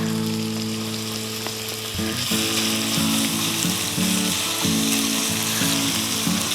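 Steady sizzling of hot oil, with a louder burst of crackle partway through as garlic hits the pan, continuing close and busy.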